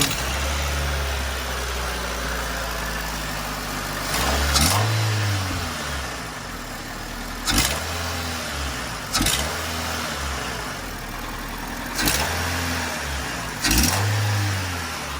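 A 2001–2005 Honda Civic engine fitted with a short ram air intake idles steadily, with several short revving bursts spaced a few seconds apart, close and loud.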